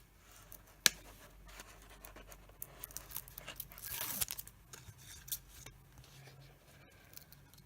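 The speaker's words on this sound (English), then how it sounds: "now we just have to peel this off." Adhesive backing peeled from a 6x6 shaker-top card box, a close, papery tearing rasp building to a louder strip just past the middle, with scattered crinkles and a sharp tap early on.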